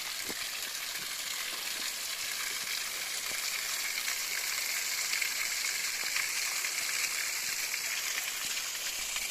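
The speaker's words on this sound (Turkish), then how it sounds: "Evet arkadaşlar duyuyorsunuz suyun sesini." Steady rushing water from a natural mountain waterfall, a constant broadband roar with no pauses and no voices.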